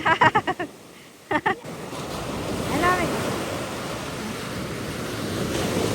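Steady rush of surf and breaking waves with wind buffeting the microphone, preceded by a few short bursts of voice-like sound at the start.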